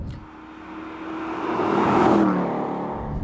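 Aston Martin V8 Vantage S engine and exhaust building from a steady drone into a rising rev around two seconds, then easing back slightly, heard close and fairly loud with no talking.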